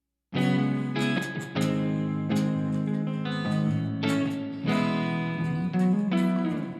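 Guitar chords strummed through the plate reverb of a Donner Arena 2000 multi-effects processor, each strike blooming into a smooth, dense wash that sustains between hits, with no voices.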